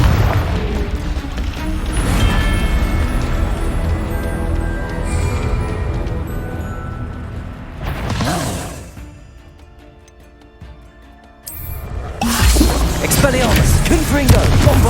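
Spell blasts from the Confringo fire spell in the Hogwarts Legacy video game, loud booming bursts over dense game music, with a brief quiet lull before the explosive din returns.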